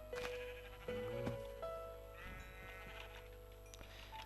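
Sheep in the Minecraft video game bleat several times in short, wavering cries, moderately loud against a steady game background with no talking.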